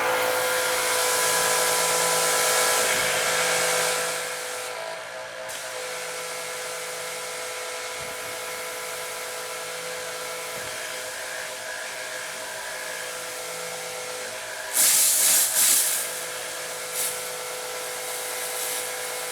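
Pressure washer running with a 3.0 nozzle, one of the machines in a comparison of the Adam's Pro, AR 675, Kranzle KWS700 and Sunjoe models, giving a steady loud hiss and motor whine that dips slightly partway through, with a brief louder burst near the end.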